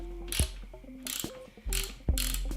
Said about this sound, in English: And now we're going to torque it down.